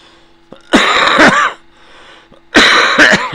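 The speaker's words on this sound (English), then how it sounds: "Pardon the coughing into the microphone there." Harsh, close coughing: a cluster of coughs, a pause, then another loud coughing fit, very near the microphone.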